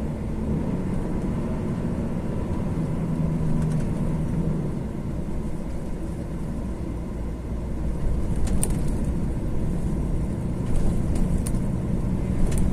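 A DAF XF 480 truck driving on a potholed road, heard as a steady, loud engine and road rumble with a few faint rattles and knocks, with no talk.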